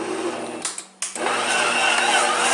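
Stand mixer with a dough hook working whole-wheat bread dough, a loud steady motor whir that dips briefly and restarts, then runs on evenly and close.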